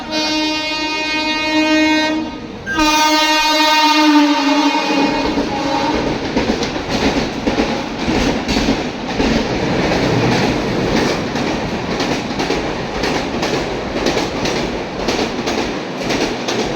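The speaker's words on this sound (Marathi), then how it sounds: "आपली इकडनं ट्रेन आहे कोकण कन्या" The Konkan Kanya Express sounds a long, loud, close horn blast, then its coaches roll past with steady rhythmic clickety-clack of wheels on rail joints.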